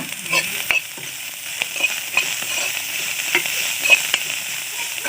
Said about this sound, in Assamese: আৰু 2 মিনিট সময়লৈকে ভাজিব দিম